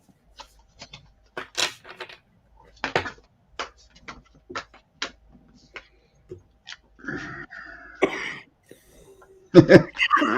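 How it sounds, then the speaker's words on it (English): A woman with a cold coughs and clears her throat in a series of short, scattered bursts, with a few louder coughs near the end. Quiet ticks and small handling sounds fill the gaps. "Excuse my coughing."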